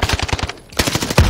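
Rapid automatic gunfire in the video game Warzone rattles out in quick bursts, loud and close, with a brief pause in the middle before the shooting resumes.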